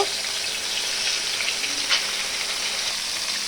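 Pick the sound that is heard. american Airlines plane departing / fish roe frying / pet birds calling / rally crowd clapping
fish roe frying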